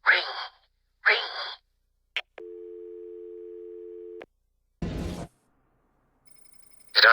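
A phone booth telephone in the Batman Arkham City video game gives one steady electronic tone lasting nearly two seconds, set among short bursts of speech and other brief sounds.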